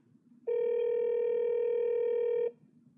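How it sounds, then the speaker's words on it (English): A single steady two-second ringback tone from an iPhone placing an outgoing call, clean and close, starting and stopping sharply over near silence. "And now I'm calling Anna."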